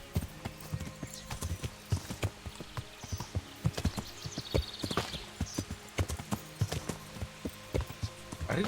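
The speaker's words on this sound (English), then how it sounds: "Come on, Horsey, you can do this." Horse hooves clip-clop in the video game Kingdom Come: Deliverance, a steady rhythmic clatter of footfalls close by with a faint background ambience.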